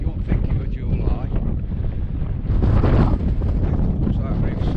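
Strong July wind buffeting the microphone on an exposed hilltop at Stanage, a loud continuous roar that surges stronger partway through.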